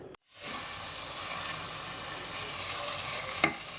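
Garlic butter sizzles and hisses steadily in a hot pan while being stirred, a close, continuous frying crackle that starts after a brief silence, with one sharper clink near the end and no talk.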